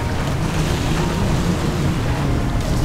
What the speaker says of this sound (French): il y a un vent froid qui arrive là aussi